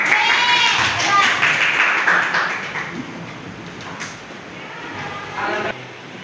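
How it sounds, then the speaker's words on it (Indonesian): A secondary-school class in Padang, Indonesia claps together after a history lesson on the Japanese occupation, a loud, steady patter of many hands that fades slightly toward the end. "Tepuk tangan untuk kita semua."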